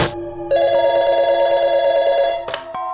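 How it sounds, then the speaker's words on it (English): A telephone rings in the Phoenix Wright: Ace Attorney video game, one sustained electronic ringing tone that starts after a short blip and stops with a click near the end. "And then the phone call came."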